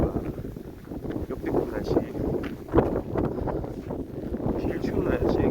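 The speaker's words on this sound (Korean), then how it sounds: "이거 바람 소리 들릴 것 같은데요" Strong wind gusting outdoors on a snowy, icy winter day of extreme cold, buffeting the microphone in uneven rushes while someone talks over it.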